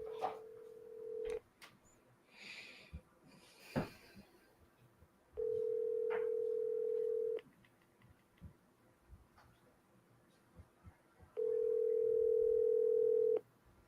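A phone call is placed and dialed twice after going to voicemail. Three steady dial-tone beeps sound at a moderate level, separated by quiet gaps that hold faint clicks and room noise.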